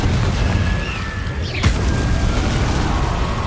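A Confringo or Bombarda spell blast in a Hogwarts video game: one sharp boom with a brief whistling streak, set against steady loud background game noise.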